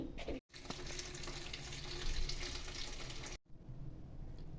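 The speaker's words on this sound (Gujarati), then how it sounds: "હવે તેને પાણીથી ધોઈ નાખીશું." Chopped fresh green fenugreek leaves are rinsed in water, with a steady splashing rush that cuts out abruptly twice before returning more quietly.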